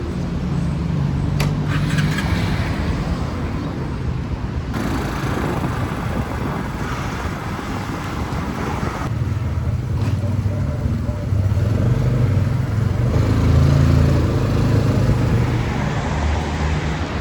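Motorbike taxi ride through Bangkok traffic, a steady close engine drone and road rumble with passing vehicles and wind buffeting throughout, no clear talk.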